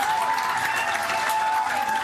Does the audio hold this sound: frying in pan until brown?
no